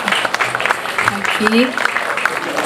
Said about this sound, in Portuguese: Vamos aplaudir o cara, gente.